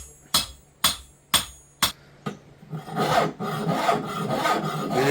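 Hand rasp filing material in a village near Gulmarg, Kashmir: five distinct, evenly spaced rasping strokes, then a denser, continuous rough scraping that builds and carries on, close by and fairly quiet.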